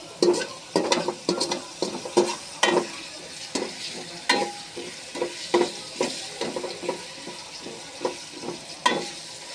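Onions being stirred in hot oil in a pan for goat biryani: repeated scraping strokes of a spoon in an irregular rhythm over a steady, soft sizzle of frying, close up.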